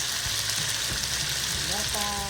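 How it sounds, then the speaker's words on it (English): Onions and tomatoes sautéing in a pan for pork sinigang: a dense, continuous sizzle with small crackles and the scrape of stirring, loud and close throughout. "You just saute it for a little bit more"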